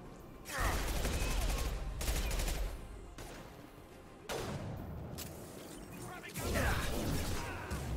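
Heavy weapon fire in the sci-fi shooter Mass Effect 2 Legendary Edition, loud bursts with pauses between them, mixed with crashing impacts and game sounds, and someone talking over parts of it.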